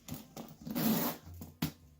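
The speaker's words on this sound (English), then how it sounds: "Here's the zipper." A zipper on a stone-washed Horween leather backpack is pulled in a few short rasping strokes, one longer drag in the middle and a sharp tug near the end, close and quiet.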